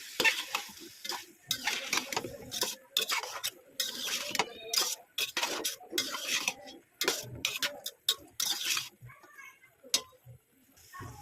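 Coconut being stir-fried with palm seed kernels in a pan, busy bursts of scraping and clattering from a spatula over a sizzle, with a voice talking at points.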